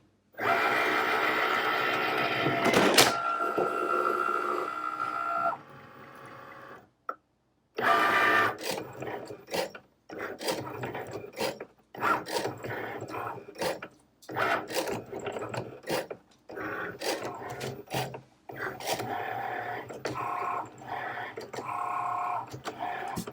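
A vinyl cutting machine working through a cut for farmhouse mugs, its motor whirring and ticking in rapid stop-and-start bursts with short pauses, close and steady for most of the stretch.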